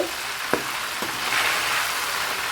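Chilies fry in hot oil while sambal garing with tongkol tuna is being made, a steady crackling sizzle broken by a couple of sharp utensil clinks near the start.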